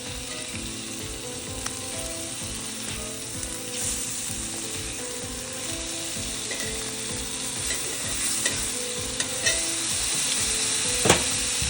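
Salmon fillets for a lemon herb dish sear in a hot pan with a steady, dense sizzle, joined by occasional scrapes and clinks as they are moved, with no talking over it.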